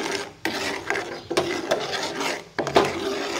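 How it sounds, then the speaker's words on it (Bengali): A spoon scraping and stirring kheer with sugar in a pot, steady rasping strokes in a loose repeating rhythm, loud and close, with no voice. "তো চিনিটার সাথে ভালোভাবে ক্ষীরটাকে নাড়িয়ে চাড়িয়ে নিব।"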